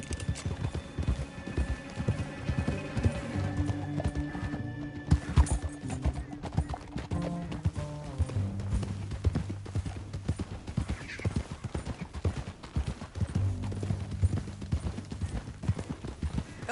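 Horse hooves clip-clopping in the video game Red Dead Redemption 2, a steady rhythmic trot near the listener with occasional whinnies and snorts, over low background game music and ambience.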